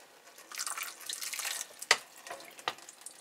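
Water trickles and sprays around the edges of an indoor duckweed growing container, soft splashes punctuated by a few distinct drips and small spatters, fairly quiet and close.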